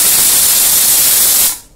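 A pressure cooker cooking chicken dum biryani lets out a loud, steady steam whistle that hisses continuously, then cuts off abruptly near the end, leaving near silence.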